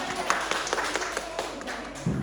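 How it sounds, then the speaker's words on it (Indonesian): A small classroom group claps during a micro-teaching lesson, with a few distinct claps standing out over a softer patter and a brief low voice sound near the end. "tepuk tangan buat kita semua"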